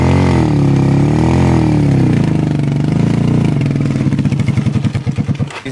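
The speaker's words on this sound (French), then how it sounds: "Le ronflement de ces véhicules démontre la souffrance quotidienne des usagers des voies d'accès" Several motorcycle engines roar loudly and close by on a rough, badly damaged rural access road in Batiam, Bamboutos department. The steady drone shifts into choppy, pulsing revs toward the end.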